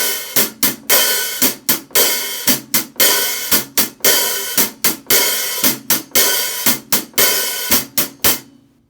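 A drum-set hi-hat plays a steady scraping pattern mimicking a guiro, with washy open strokes on beats one and three cut short by closed chicks, loud, continuous and without voices.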